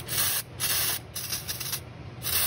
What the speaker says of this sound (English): I'm going to take a can of brake clean and I'm just going to liberally spray